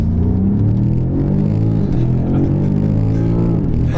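A BMW M5 CS accelerates hard on the road, its loud, close engine roaring with rising pitch and a steady throaty rumble, heard from inside the car with no talk.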